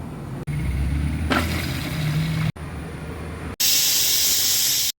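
Mixer grinder blending coconut with cumin and curd, a loud, close, steady whirring roar running in several short bursts separated by brief cutoffs, the final burst higher and harsher.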